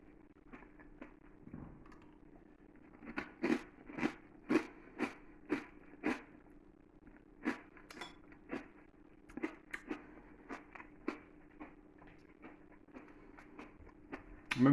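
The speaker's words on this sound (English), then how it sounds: "Maybe we should try it without the crust bread. It's just crunchy." Crunchy sourdough bread crust being chewed, a quiet series of irregular crisp bites and crunches close to the mouth, clustered through the middle and end with short pauses between.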